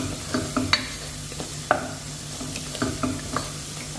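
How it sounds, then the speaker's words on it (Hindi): A spoon stirs and scrapes masala as it roasts in a pan for Kolkata-style mutton tahari, with scattered sharp scrapes and knocks over a low, steady sizzle; no one talks. "अब मसाले को अच्छे से भूनना है।"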